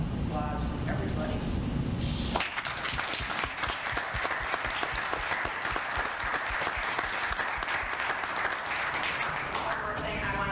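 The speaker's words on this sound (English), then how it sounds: "they deserve a big hand of applause from everybody" Audience at a community task force meeting breaks into loud, sustained applause that fills the room for about eight seconds, right after a short stretch of someone speaking.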